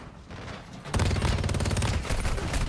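Shotgun fire in Warzone Mobile erupts after a quiet lead-in, a loud, sustained burst of rapid shots close up that fills the rest of the moment.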